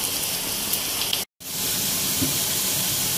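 Sliced onions sizzle in hot oil with a loud, steady hiss and crackle, broken by one brief total dropout before the frying resumes.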